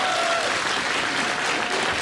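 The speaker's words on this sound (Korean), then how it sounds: "다시 한번 박수 부탁드리겠습니다." Sustained audience applause in a television talk-show studio, full and even for the whole stretch, with a faint voice briefly audible beneath it.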